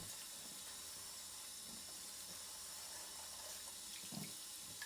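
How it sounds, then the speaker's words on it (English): Cold tap water runs steadily into a sink as rose buds are rinsed to wash off small bugs, a continuous soft splashing with faint handling noises and no talking. "Use cold water to wash away all the little flies or little bugs."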